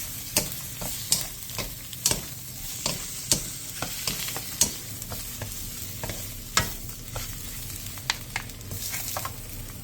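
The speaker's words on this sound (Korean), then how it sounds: "팬에 기름을 두른 뒤 어묵과 다진 마늘 반 스푼을 넣고 센 불에서 볶아주세요." Fish cake pieces and half a spoon of minced garlic stir-fry over high heat in an oiled pan, with a steady sizzle broken by repeated sharp scrapes and taps of a spatula against the pan.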